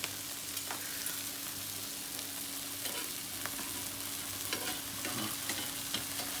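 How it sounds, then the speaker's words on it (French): Food browns gently in a frying pan, a quiet steady sizzle broken by occasional light clicks and stirs of a utensil, with no voices. "il faut bien les laisser dorer"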